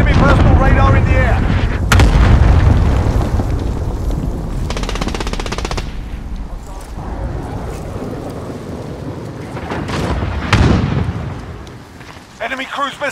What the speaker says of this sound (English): Cluster strike incoming. Take cover.